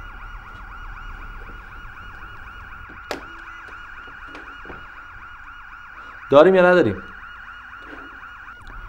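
A police siren wails right outside a door in an Iranian TV series, a loud, steady warbling tone running throughout, with a brief spoken exchange in the middle and a sharp knock earlier.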